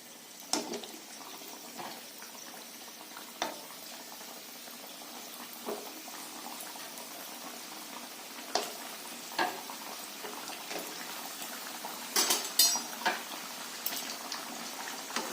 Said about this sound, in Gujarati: એને આપણે આ તેલ છે એ તેલમાં આપણે એને ઊંધી ફ્રાય થવા માટે પહેલા નાખવાની છે